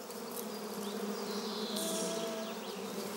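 Honeybees buzzing steadily in a continuous, dense hum, with individual passes rising and fading over a constant drone, no voices present.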